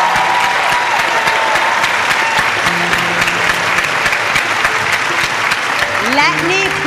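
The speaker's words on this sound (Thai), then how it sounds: "ขอเสียงปรบมือให้กับแนนในการเต้นเปลี่ยนชีวิตในชีวิตของเธอด้วยค่ะ" A television studio audience applauds a dancer on a Thai weight-loss dance competition show. The clapping is loud, dense and steady throughout, with brief voices and whoops rising near the end.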